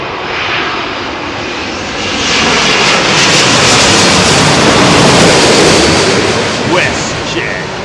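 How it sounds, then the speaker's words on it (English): A WestJet airliner roars in to land on runway 27L at London Heathrow, a loud broadband engine rumble building and peaking midway, close by, with someone talking over it. "WestJet. That's a clean airliner, isn't it?"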